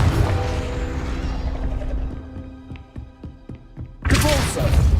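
The Confringo spell in Hogwarts Legacy hits with a heavy blast and a rumbling crash, then a series of mechanical clicks and thuds as debris settles, followed by another loud burst of impact noise.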